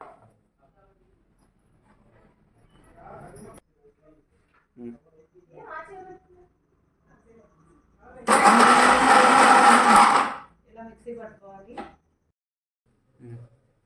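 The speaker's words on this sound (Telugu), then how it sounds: "ఇలా మిక్సీ పట్టుకొని ఉంచుకోవాలండి" An electric mixer grinder whirs loudly for about two seconds as it grinds jujube fruit with jaggery, salt and cumin. The burst sits between stretches of soft speech and kitchen handling noise.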